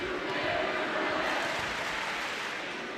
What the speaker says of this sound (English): A solid student crowd here in Moby Arena, letting the Mustangs hear it.